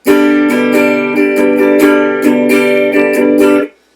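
An acoustic guitar strums a chord in a repeating down-down-up-down-up rhythm, crisp and close, ending with the strings cut off abruptly.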